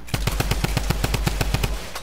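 Rapid automatic gunfire in a duos video game match, a fast, loud burst of about a dozen shots in even succession, with no voices.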